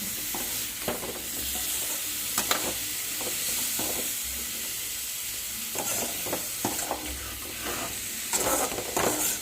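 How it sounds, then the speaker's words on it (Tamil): Vegetables for a lentil sambar sauté in a hot pan, with a steady sizzling hiss and repeated scraping stirs of a spoon at an uneven rhythm, close and alone without talk. "சேர்த்துட்டு நல்லா வதக்கி விட்டுக்கலாம்."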